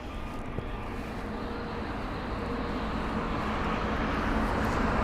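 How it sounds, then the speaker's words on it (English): Swiss Airbus A320neo from Zurich at Heathrow, giving a steady broadband jet roar that holds throughout and grows slightly louder toward the end. "So we have this aircraft right here, which is the Swiss A320neo."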